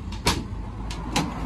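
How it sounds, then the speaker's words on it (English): Rear door of a 2018 Ford Transit Connect van operated outdoors, giving a few sharp clunks and latch knocks, one near 0.3 s and another near 1.2 s, over steady low background rumble with no talk. "As you can see, door's working absolutely fine."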